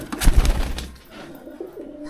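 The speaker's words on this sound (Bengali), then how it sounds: "আর কিছু শৌখিন পায়রা।" Fancy owl-breed pigeons give a few soft, low coos close by, a short throaty burst followed by quieter murmurs.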